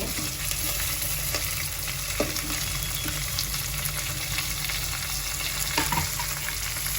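Carrots and tomatoes frying in a pan for a masala pulao, a dense continuous sizzle close up with occasional light stirring knocks and scrapes.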